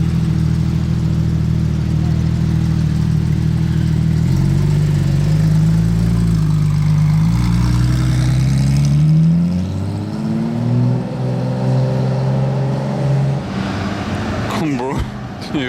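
A Porsche 911 GT3 RS passes on a Monaco street in summer, its engine note climbing and shifting through several revs before fading into traffic noise, with voices talking over it.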